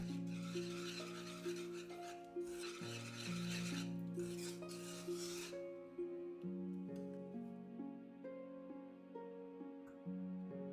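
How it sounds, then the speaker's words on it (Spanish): Banana cream is stirred in a saucepan on the stove: soft rasping scrapes of a utensil against the pan come in bursts early on and fade later, under steady background music. "Llevamos la cazuela al fuego y cocinamos la mezcla, removiendo constantemente para evitar que se pegue."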